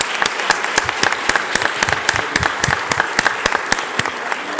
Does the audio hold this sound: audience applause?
yes